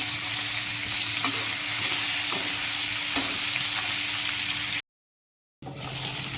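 Pork pieces frying with salt in a wok, a steady loud sizzle with occasional stirring scrapes, cut by a short gap of silence before the sizzle resumes.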